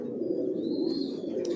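Johnson line racing pigeons coo inside a loft, a low steady throaty cooing close by, with a faint thin tone above it.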